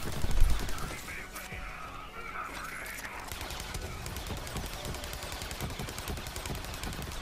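The Atlas Carrier gun in the game Borderlands 3 fires continuously in rapid automatic bursts, loud and dense, over a steady wash of gameplay effects and low rumble.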